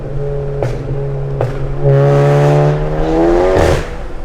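Stage 2 Volkswagen GTI exhaust droning steadily while driving, a loud, moderately raspy tone that swells as the engine pulls, with two sharp clicks or pops early on.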